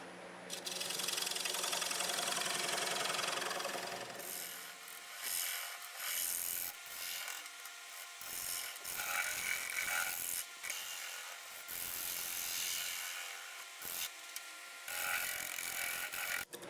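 A negative rake scraper works a spinning river birch blank on a lathe, giving a loud, continuous rasping scrape that breaks into choppy bursts and brief gaps partway through, with no talking.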